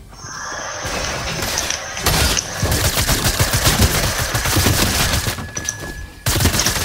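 Rapid, loud shotgun blasts from the Fortnite video game, the new Terminator shotgun, crack out in dense bursts over a busy battle mix, with sharp transients and short gaps between volleys across the whole stretch.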